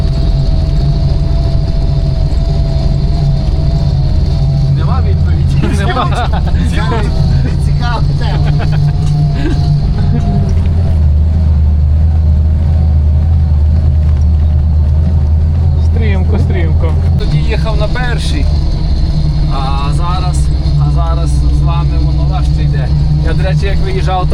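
A green LuAZ off-road car driving along a rough road on a trip with friends, a loud steady engine drone with knocks and rattles from bouncing, while people talk inside the vehicle.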